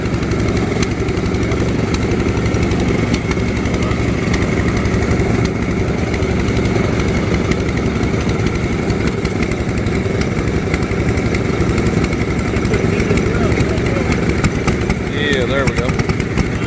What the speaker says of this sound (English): a generator for the house.